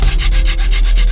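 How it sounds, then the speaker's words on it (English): Steady, continuous rubbing of a wooden hand-drill spindle twisted against a fireboard to make a friction fire in damp Tennessee woods, a close, even grinding scrape that pulses faintly with each pass of the hands. "they manned up in the middle of the damp Tennessee woods to get a hand drill friction fire"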